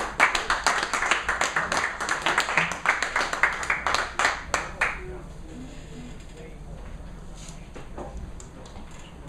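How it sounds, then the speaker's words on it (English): Audience clapping at an open mic poetry night, a burst of loud, dense applause for several seconds that thins out and fades to quiet room tone. "Let's give a round of applause for Pete C."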